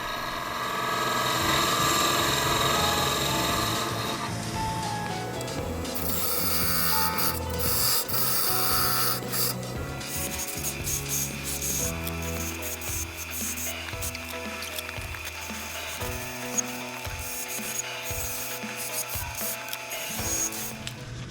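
Sandpaper rubs against a woodturned ghost spinning on a lathe, making a continuous rasping hiss over the machine's steady whir, with textured scratchy variations as the sanding moves along.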